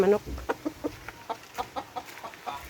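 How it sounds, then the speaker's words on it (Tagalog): Backyard chickens in a rural province setting cluck in a series of short, close, rhythmic bursts, with low background rustle and a faint voice at the start. "Bait naman yung manok."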